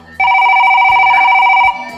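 A telephone rings once in a single loud, sustained electronic trill lasting over a second, close by, with faint room sound before and after and no talk during the ring.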